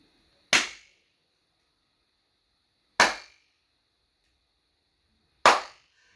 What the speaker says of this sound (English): The Texans deserve the 3 claps